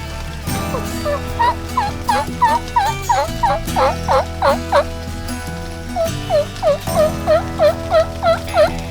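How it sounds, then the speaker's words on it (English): Rapid series of distant wild turkey gobbles repeating in quick bursts, with steady low background noise throughout. "We heard a few gobbles in the distance."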